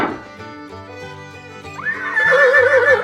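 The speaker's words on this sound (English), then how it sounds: "It's a horse." A horse on a farm lets out a single loud whinny that rises and wavers over light background music, near and clear.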